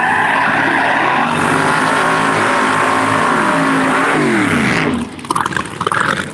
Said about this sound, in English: Once again, that's Marcus Butner coming by right here in the Butner Construction machine